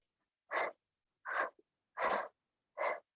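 Four loud, rhythmic breaths, close to the mic and evenly spaced, like someone panting hard during exertion, with no talking.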